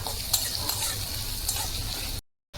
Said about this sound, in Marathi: कांदा चांगला भाजून झाला आहे